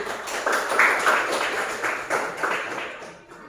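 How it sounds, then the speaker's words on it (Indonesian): Students clapping together in a classroom after a group presentation, a steady patter of many hands at moderate volume for a few seconds before trailing off. "Bagus, tepuk tangan"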